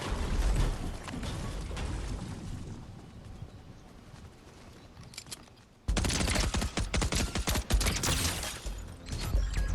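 Rapid bursts of SMG fire ring out in Fortnite ranked gameplay, with dense rattling volleys at the start, a quieter stretch, then a loud sustained barrage, and no voices.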